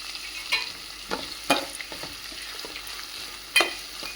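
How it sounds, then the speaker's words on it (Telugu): Amaranth greens sizzle steadily in a hot pan while a spatula stirs them, giving a few sharp scraping clicks over the constant frying hiss. No one speaks. "ఇవన్నీ వేగుతూ ఉంటాయండి."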